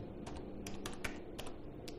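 Someone types on a computer keyboard and presses the Tab key, producing quick, close clacking keystrokes in an irregular rhythm over a low steady background hum.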